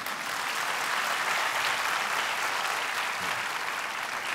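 Audience applause from a crowded lecture hall, steady dense clapping that holds at full strength for several seconds without fading.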